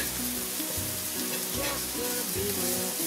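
Spaghetti squash frying in a hot skillet, a steady, close sizzle that hisses continuously throughout with faint stirring scrapes.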